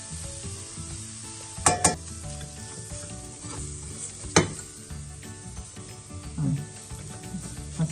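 Onion, cauliflower and turmeric, chilli, garam masala and pepper powders frying in a pan, a steady close sizzle broken by several sharp scraping stirs of the spoon.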